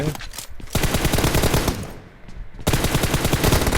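Bursts of rapid automatic gunfire from a video game shooter, loud and dense, with a brief lull before the shooting resumes, while players talk faintly over it.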